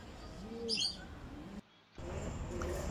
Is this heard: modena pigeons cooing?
yes